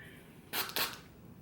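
A can of hair styling spray gives two short, close hissing bursts in quick succession, the second slightly longer, in an otherwise quiet room.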